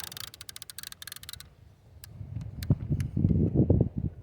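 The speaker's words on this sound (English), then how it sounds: "Man, it's kind of windy." Low rumbling wind buffets the microphone while fishing outdoors in a continuous breeze, with gusts swelling louder toward the end after a stretch of crackling noise at the start.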